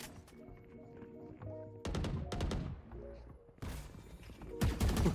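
Rapid bursts of gunfire in the video game Valorant, sharp repeated shots in several clusters with ringing tails and game effects between them, loud and close.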